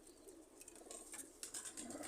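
Pigeons at a loft in Multan give soft, low coos that sit close and fairly quiet over steady background noise, with a few brief brighter chirps or rustles mixed in.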